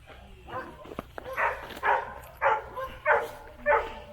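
Several puppies rescued after a Texas tornado bark in a rapid series of short yips and woofs, close and evenly spaced, with no one talking.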